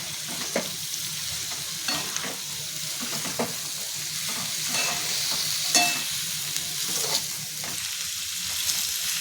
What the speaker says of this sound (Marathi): जे आपण ते कापून घेतलेली भाजी आहे ती टाकून परतून घ्यायचे आहे